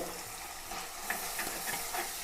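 A ground paste of chilli, coriander, turmeric, ginger and onion sizzles and hisses in a hot pan for fish curry, a steady close frying crackle with occasional stirring scrapes and no talking.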